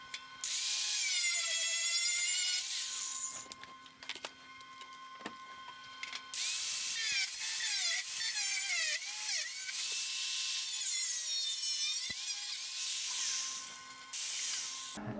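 A power tool cuts a piece of metal for a TIG welding butt joint, giving a loud, high-pitched whine in long runs. Brief pauses and pitch dips come as the blade bites, and a faint steady electrical hum sits underneath.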